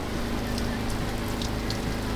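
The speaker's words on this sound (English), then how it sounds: "So we're gonna hunker down inside and hopefully the rain stops." A tropical rain shower near Komodo Island in Indonesia falls as a steady, close hiss of drops pattering on surfaces, fairly loud and continuous, with no voices.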